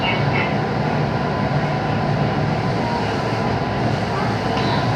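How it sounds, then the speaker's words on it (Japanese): Sagano Line local train bound for Sonobe running slowly during a typhoon, a steady rumbling rail drone heard from inside the carriage, continuous and fairly loud throughout. "本日は台風接近伴い花園園部間において徐行運転をしております。"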